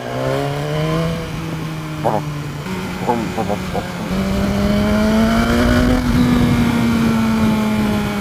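The exhaust of a BMW S1000R motorcycle rumbles steadily at idle, close to the microphone, with a few sharp blips. The note then swells into a longer, rising rev that holds loud.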